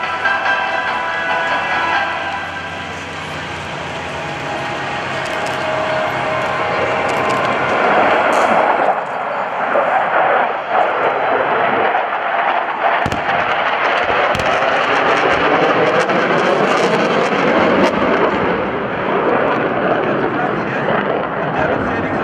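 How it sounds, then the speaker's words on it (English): An F-18 makes a pop attack during a Naval Air Power Demonstration at the 2012 NAS Oceana airshow, a loud roaring jet rush with sharp bursts of pyrotechnic explosions and cracks, while an announcer talks over a public address system. "From the right, the F-18 pop attack."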